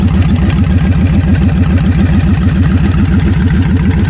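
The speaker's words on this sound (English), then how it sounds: "sounds like a Harley a little bit, but you hear all kind of noises riding this thing besides the exhaust" A Kawasaki Vulcan 1500 Classic motorcycle engine idles close by, a loud, steady low-pitched loping thump with a rhythmic pulse and mechanical clatter, no voices.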